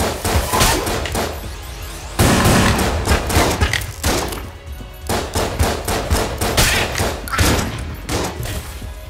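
Rapid bursts of gunfire from the video game Enter the Gungeon, loud repeated volleys of shots and thuds in quick succession with brief pauses between bursts.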